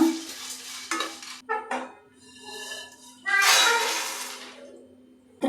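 Fried dry fruits scraped from a pan onto a plate for laddu, with a few clinks and scrapes of a spoon against metal, a short pause, then a longer sliding rattle close by.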